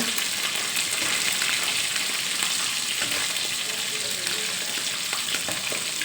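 Food frying in hot oil in a pan, with oil darkened from repeated use, giving a steady, dense crackling sizzle that stays close and loud throughout with no one talking over it.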